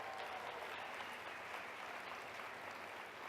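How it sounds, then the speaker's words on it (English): Applause from an audience at a gardening talk, a faint, distant, uniform patter of many people clapping that holds steady for a few seconds without speech. "Let's get one more round of applause for Cynthia"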